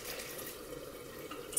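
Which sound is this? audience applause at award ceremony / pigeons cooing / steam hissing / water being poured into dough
water being poured into dough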